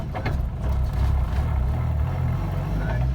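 Engine of a 1JZ-swapped Mazda FC RX7 drift car with no sound deadening, a steady low rumble and drone heard from inside the cabin, alongside the noise of its loud transmission.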